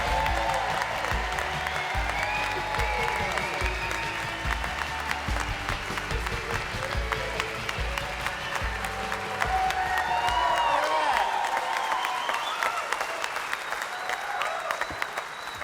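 A studio audience on a comedy talk show applauds and cheers for a guest musician, a sustained loud clapping that runs the full length while music plays underneath.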